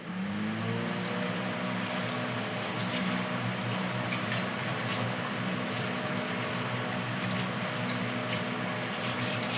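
An electric fan running in a home kitchen, a constant whirring hum with a steady airy rush that holds level throughout, close by, with no voices.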